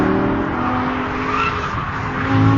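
A rear-drive Lamborghini Gallardo's high-revving V10 engine roars steadily with tire squeal and skidding, loud and close, swelling slightly toward the end.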